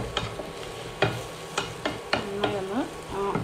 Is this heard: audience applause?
no